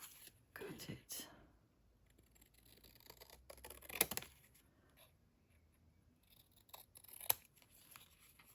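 Scissors snip through paper for a junk journal, a few quiet close crisp cuts spaced out among soft rustling and handling noises, faint overall.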